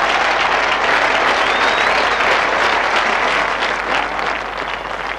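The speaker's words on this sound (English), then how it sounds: "And Derek Randall, tremendous applause for his 52." Cricket crowd applause at a 1983 Test match in Nottingham, England against New Zealand, a loud, sustained roar of clapping from a large stadium audience, steady throughout and easing slightly at the end.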